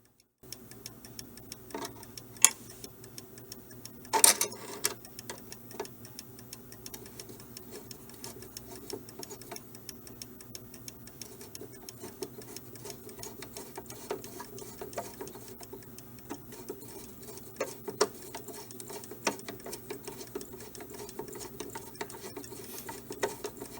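Antique mechanical clock from around 1918 ticking steadily and faintly in a quiet room, with a few louder clicks and rustles early on and no talking.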